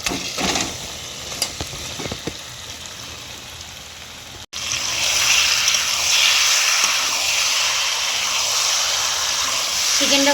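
Chicken pieces dropped into hot oil with spice paste for a chicken curry. After a few clinks and a brief pause, a loud continuous sizzle and hiss bursts up and holds steady.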